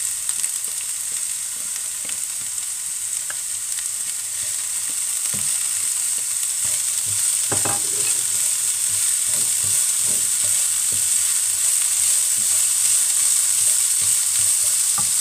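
Onion and peppers fry in a pan with a steady, close sizzle throughout, broken by a few stirring scrapes and light clinks, with no talking.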